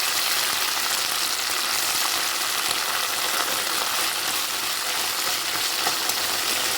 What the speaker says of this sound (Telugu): ఆ పుదీనాన్ని తీసి వేసుకోవాలి. బాగా వేయించుకోవాలి